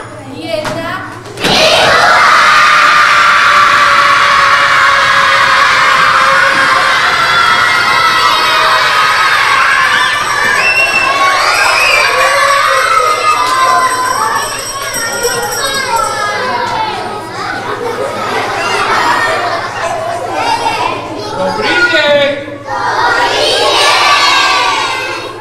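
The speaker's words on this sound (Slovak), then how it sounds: "Že kto na mňa tak usilovne kričí? Prečo na mňa kričíte?" A crowd of children shouting loudly and cheering together at a St. Nicholas (Mikuláš) event, a sustained, boisterous roar of young voices with an adult voice speaking among them.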